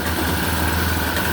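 A grass cutter's small engine running at a steady idle, a close, loud, even buzzing drone with no talk over it.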